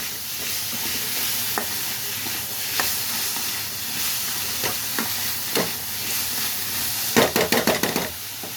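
Onions sautéing in a pan with turmeric powder for a drumstick stir-fry, a steady sizzle broken by occasional scrapes and stirs and a burst of clattering stirring near the end.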